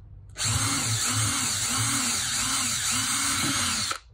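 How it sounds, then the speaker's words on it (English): A power drill in second-speed gear drills pilot holes at close range for about three and a half seconds, its whine holding level with a slight rhythmic wobble as it bores through. "We drill the other 2 holes."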